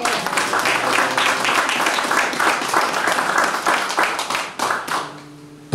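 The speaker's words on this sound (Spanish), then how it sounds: "Que el público le regale un aplauso más genuino al payador cauquenino Hugo Harrison Canales." An audience claps for a payador at a Chilean folk poetry gathering in San Carlos, a lively burst of hand clapping that thins out toward the end before a voice briefly takes over.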